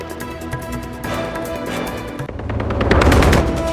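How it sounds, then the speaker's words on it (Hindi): Rapid bursts of automatic gunfire crackle loudly and continuously, shifting into a denser, louder volley toward the end, with no voices, during an attack at a bus stop in Jerusalem. "हमलावर ने बस स्टॉप पर बरसाई अंधाधुंध गोलियां"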